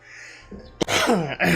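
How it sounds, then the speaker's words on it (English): One sharp cough bursts out after a quiet moment, followed by a rough throaty vocal sound, close and fairly loud. "That coughing's gonna happen this part, sorry guys."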